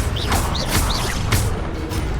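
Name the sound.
Accio summoning spell cast, from video game Hogwarts Legacy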